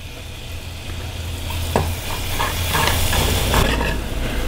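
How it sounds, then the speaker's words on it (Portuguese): Garlic fries in a pan with homemade seasoning of salt and malagueta pepper, giving a steady close sizzle and hiss broken by a few light stirring clicks. "Só que ele tem que estar fritinho, então eu vou fritar ele bastante"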